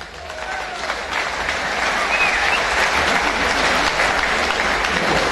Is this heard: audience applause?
yes